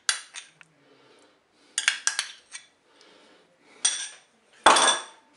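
A spoon scrapes and clinks against the pot of a Cookeo multicooker while tomato paste is stirred into a tuna dish, coming in short metallic bursts separated by pauses.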